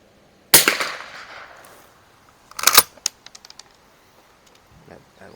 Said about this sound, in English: That second one there sounded like a high velocity 22 long rifle going off.